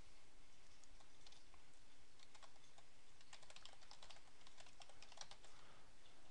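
Someone types a name and an email address on a computer keyboard, producing quick, irregular clusters of clicky keystrokes at close range with no talking over them.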